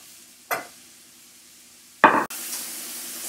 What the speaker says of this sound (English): So the bacon and onions have been cooking for about 3 minutes.